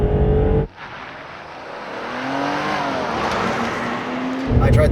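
A car engine revs up through the gears on a driving test, starting loud, cutting briefly at a shift, then climbing steadily in a rising drone with a faint tire hum, ending with another surge.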